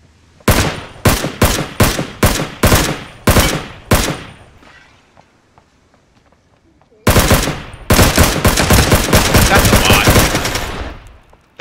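Rapid automatic gunfire in the Ring of Elysium battle royale game, loud and close: a string of about eight sharp bursts, a short lull, then a sustained continuous volley with no talk over it.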